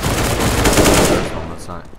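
Rapid automatic AK rifle fire in Counter-Strike: Global Offensive, a loud, dense burst of shots lasting over a second before cutting off and fading.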